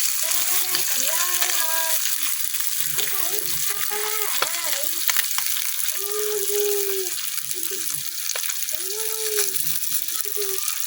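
Small puti fish fry in a karahi with a steady, fairly loud sizzle and crackle, while a voice talks intermittently over the cooking.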